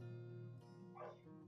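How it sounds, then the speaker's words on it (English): A pet dog gives a short yip and whimpering bark, quiet and somewhat muffled, as if from outdoors beyond the room, heard over a steady low indoor hum. "I'm really sorry about the dog barking"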